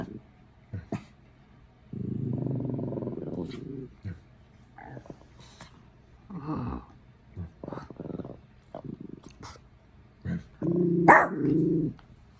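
A dog barks and growls in short bursts, close and fairly loud, mixed with a few sharp yips, while a person talks between the outbursts.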